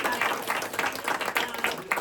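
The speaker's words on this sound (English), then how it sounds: "Please, can we give a round of applause?" Applause from an audience at a community talk on being human in the age of AI, thanking Daphne after her presentation; a brief, moderately loud patter of clapping with no talk over it.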